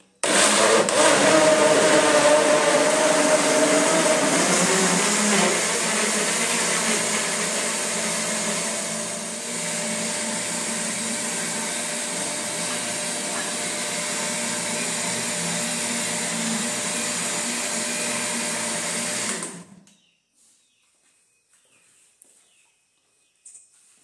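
An electric blender whirs steadily, loud and close, for about twenty seconds, blending a breakfast smoothie with sugar before switching off abruptly into near silence.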